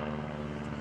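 A propeller aerobatic airplane flown by John Mohr at the 2011 Blue Angels Homecoming airshow gives a steady, droning engine and prop roar, brief and continuous, with no talk over it.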